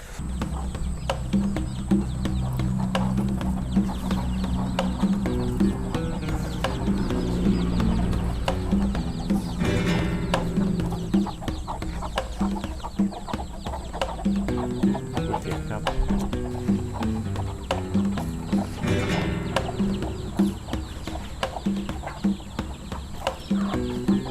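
Chickens clucking continuously on a Thai farm where ducks and chickens are raised, dense overlapping calls with a steady background hum, fairly close and moderately loud, no talking.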